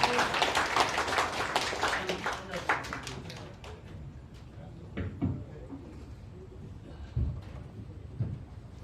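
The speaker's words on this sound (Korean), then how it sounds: "박수로 환영해 주시기 바랍니다." Audience clapping to welcome a speaker at a Korean public forum, a dense burst of applause that thins out into scattered claps and fades into quiet room noise.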